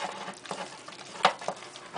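Choux pastry dough for cream puffs is scraped and stirred around a bowl as eggs are worked in, giving soft, irregular patters and scuffs with one sharper knock near the middle, all close and fairly quiet.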